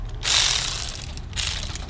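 Ratchet wrench tightening a bolt on an upgraded dual-piston front brake caliper on a first-generation Chevy Cruze, two quick clicking ratchet strokes, near and clear with no talking.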